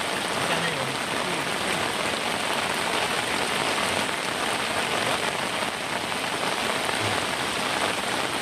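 Heavy rain pours onto surfaces outdoors in a dense, continuous hiss that stays steady throughout, with no voices.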